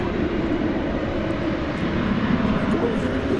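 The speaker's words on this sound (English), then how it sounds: "We're looking at American Flight 1299 coming in from Austin. It's an Airbus A319." An American Airlines Airbus A319 arriving at DFW Airport at night, heard as a steady, loud broadband jet roar with a low rumble that holds evenly throughout, no pauses or voices.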